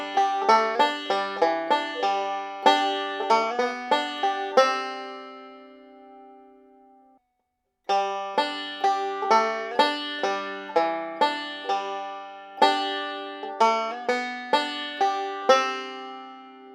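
Bluegrass banjo backup lick, rolling over G and leading to C, with rapid bright plucked notes in two phrases separated by a brief silence, close and alone.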